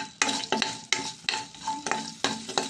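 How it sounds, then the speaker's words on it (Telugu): Tempering spices crackle in about two spoons of hot oil in a pan, with repeated scraping stirs in an uneven rhythm over a steady sizzle, close and fairly loud. "తాలింపు వేస్తున్నాను. బాండీలోను 2 స్పూన్లు నూనె వేసుకొని, నూనె మరిగిన తర్వాత తాలింపులు వేసుకొని"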